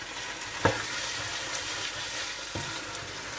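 Fresh green peas fry with chicken keema in a pan, giving a steady broadband sizzle with two sharp stirring knocks of a spoon against the pan, no talking.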